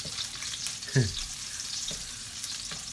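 Adobo sizzling and frying in a pan, a constant close crackle with a few scraping stirs and one brief louder clack as it is moved around, no talk over it.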